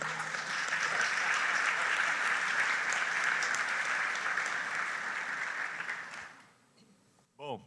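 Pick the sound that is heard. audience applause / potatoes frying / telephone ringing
audience applause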